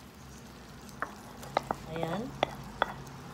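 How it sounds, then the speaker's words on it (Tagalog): Garlic sizzles in a little canola oil in a pan, a quiet steady fry with a few sharp utensil clicks and stirring taps over it, and a brief voice at the end. "Hintayin lang natin na mag-brown yung garlic konti."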